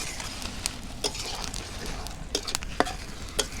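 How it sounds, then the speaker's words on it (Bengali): Spice paste with turmeric and salt being stirred and sautéed in a pan: a close, steady sizzle with repeated scraping strokes of a spoon at irregular intervals. "দিয়ে নেড়ে ছেড়ে মশলাটা একটু কষায়"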